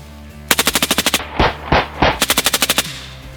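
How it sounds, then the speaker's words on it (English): A machine gun in a video game fires two rapid bursts of evenly spaced loud shots, with a couple of heavier booming blasts between them, close and dominant with no talking. "Guess it is pretty handy I do have a machine gun."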